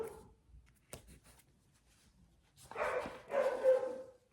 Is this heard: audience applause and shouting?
no